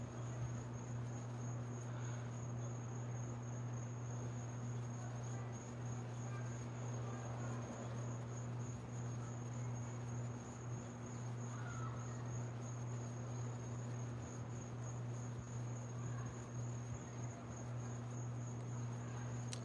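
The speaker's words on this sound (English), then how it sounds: "Lovely evening outside with the cicadas or crickets." Crickets chirp steadily through an outdoor evening, a dense continuous trill holding at an even level for the whole stretch with no other sounds standing out.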